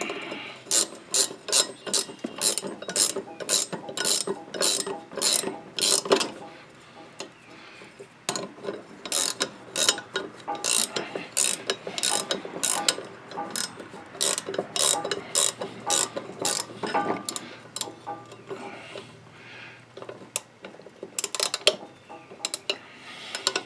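A ratchet wrench tightens the steering bolts on a John Deere L, LA or D series riding mower, giving close, crisp bursts of rapid clicking in repeated strokes with short pauses between them.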